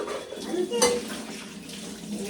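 Dishes being washed under running water at a home sink, with a light clatter of pots and utensils over a steady trickle and a bright clink near the start.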